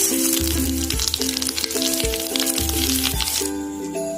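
Two bay leaves and half a spoon of fenugreek seeds sizzle in mustard oil, a dense steady crackle and hiss with faint tonal music running underneath the whole time.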